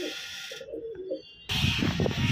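A soft coo from white-eyed white pigeons rises briefly, then gives way to a sudden burst of louder, rustling noise nearby.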